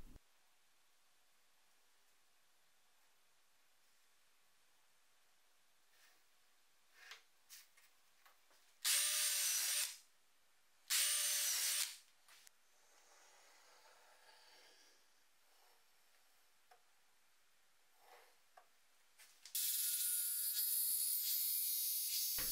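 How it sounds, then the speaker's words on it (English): A jigsaw fitted with a straight-tooth blade cuts slots in wood for a belt sander station. It runs in two short, loud bursts and then a longer run at the end, with quiet handling noises between them. "The jigsaw with one of these straight teeth blades does a remarkable job of cutting out these slots, almost free of tear out."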